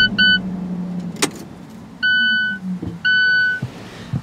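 A 2015 Alfa Romeo 4C Launch Edition settles as its engine is shut down, the low idle hum fading out beneath a repeating pattern of electronic cabin warning chimes, close and loud.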